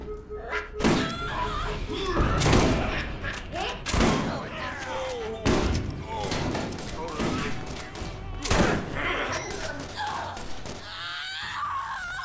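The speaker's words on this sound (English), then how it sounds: "Oh, this shotgun is gonna do him in. Shotgun versus shotgun!" Rapid shotgun blasts in the Borderlands video game, a run of punchy booms and thuds mixed with game effects and voices.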